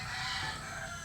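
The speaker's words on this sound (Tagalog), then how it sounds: "May manok pala. Manok yun guys." A chicken rooster crows outdoors in a brief, loud burst over a noisy background, with no talking.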